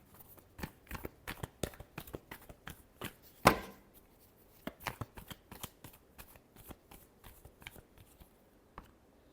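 Tarot cards being shuffled by hand, quiet and close, a run of soft irregular riffling taps and flicks with one sharper snap midway, no voices.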